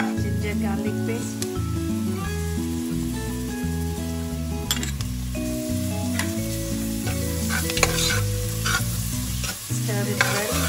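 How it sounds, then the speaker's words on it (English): Onions fry in a pan while being stirred, giving a continuous hiss and sizzle with occasional utensil clinks against the pan, all over steady background music. "Fry the onion till it's nicely brown in color."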